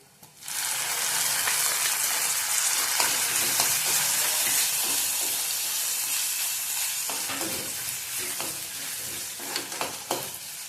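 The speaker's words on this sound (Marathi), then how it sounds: "कांदा भाजत आलाय, ह्यात आपण टोमॅटो टाकून भाजून घेऊया" Onion and tomato frying in oil in a pan on low gas: a loud, steady, close sizzle kicks in after a brief pause and continues throughout, with occasional scraping of stirring.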